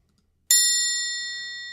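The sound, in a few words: bell sound effect from Ecamm Live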